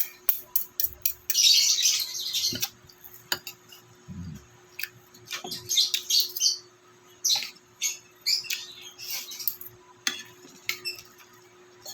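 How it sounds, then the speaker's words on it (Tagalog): A small pet bird chirps noisily in quick, bright bursts nearby during breakfast, with scattered clicks and taps of dishes in the background. "Maingay ang ibon natin."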